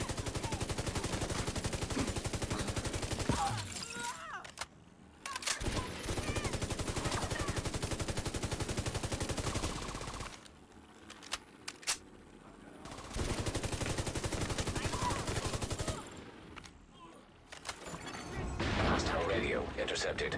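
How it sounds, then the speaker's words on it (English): Gunfire in The Division 2 video game, with dense bursts of shots that come and go over about twenty seconds, broken by short lulls and mixed with radio voices and game effects. "I hear gunfire"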